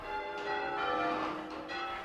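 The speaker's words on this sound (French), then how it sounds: "Mais pour sonner les cloches de la façon change ringing" Church bells rung in English change-ringing style chime in a steady sequence, their overlapping tones ringing out and fading into one another over a couple of seconds.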